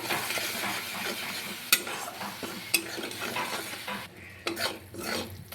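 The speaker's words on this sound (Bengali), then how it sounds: "এবার মশলাটাকে ভালো করে কষিয়ে নেব" Spice paste with green chillies and a little sugar is stirred and fried in hot oil for a dudh potol curry, a soft continuous sizzle with scraping spatula strokes and a few sharp metallic taps on the pan.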